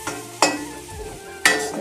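Potato samosa stuffing being stirred in a pan after garam masala is added, two sharp spoon scrapes against the pan over a low, steady sizzle, close and with no talking.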